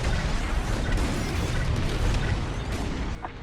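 Bombs detonate in a Star Wars Squadrons starfighter raid, a dense, continuous rumble of blasts and booms that stays loud throughout, with a brief crackle near the end.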